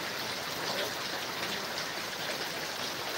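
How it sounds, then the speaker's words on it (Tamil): Steady rain pouring during a storm, a dense continuous hiss of drops on surfaces, even and unbroken throughout, moderately loud with no voices. "அப்படியே எங்கள் இதில் மழை பேஞ்சிட்டே இருக்காப்புல"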